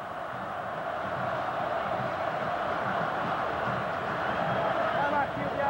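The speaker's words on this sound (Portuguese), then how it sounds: "Torcida do São Paulo sente que pode ser o momento e incentiva o time." São Paulo football fans in a stadium crowd at a 1993 final against Flamengo, a continuous massed roar of cheering and chanting that holds steady throughout.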